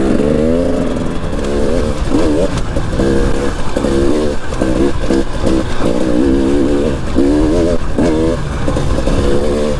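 KTM 300 TPI two-stroke dirt bike being ridden gently on a break-in run in the woods, its engine close and loud, revving up and down in quick uneven bursts as the throttle is worked.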